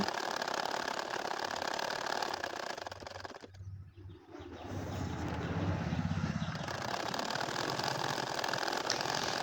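A sewing machine stitches a line on a nakshi kantha quilt in a spiral snail pattern, running as a loud, steady mechanical whir that briefly drops away midway before resuming.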